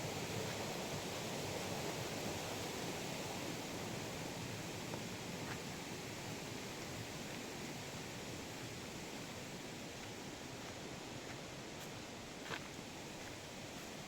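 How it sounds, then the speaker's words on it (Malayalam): Water rushes at the Orappankettu waterfall, a steady broadband roar heard from a distance, faint and unbroken throughout with a few small clicks. "അപ്പം കെട്ട് വെള്ളച്ചാട്ടല്ലേ ആ വെള്ളത്തിൻ്റെ സൗണ്ടൊക്കെ കേൾക്കുന്നുണ്ട്"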